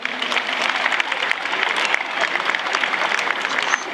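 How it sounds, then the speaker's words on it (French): Sustained audience applause at a Trait du Nord draft horse show in Cambrai, a dense, steady wash of many hands clapping at even loudness for the whole stretch, with no one speaking over it. "vous pouvez l'applaudir"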